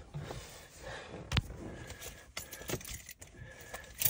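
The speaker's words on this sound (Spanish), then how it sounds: "Las llaves." Keys jangle in a bright, rattling metallic clatter, with a couple of sharper clinks as they are handled, close by, over a faint hum near a car and no talk.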